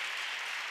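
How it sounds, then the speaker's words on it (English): Crowd in a gym at a girls' high school basketball game clapping for an injured player as she gets up, a steady, even wash of applause with no distinct voices. "Crowd giving her the claps"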